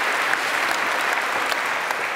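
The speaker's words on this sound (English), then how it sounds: "can we have a round of applause for Alina?" Indoor audience at a tech talk gives a round of applause, dense steady clapping from many hands, fairly even in level throughout.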